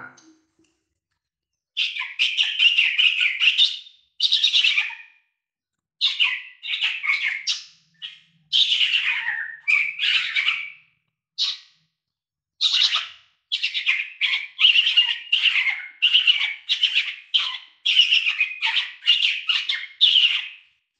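A person imitating the call of a spotted owlet on stage at a cultural festival event, giving a long series of shrill, squawking screeches in bursts separated by short pauses, loud and close.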